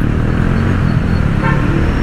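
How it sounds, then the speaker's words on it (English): A busy city traffic jam in Cebu, Philippines, rumbles with dense engine noise close by, and a short car horn toot sounds partway through. "traffic jam here."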